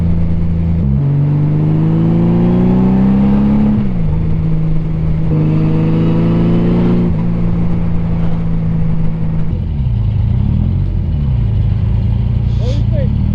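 Honda Goldwing motorcycle with an aftermarket exhaust cruising in overdrive, a loud steady engine drone that rises and shifts pitch as speed changes, heard up close with wind rush.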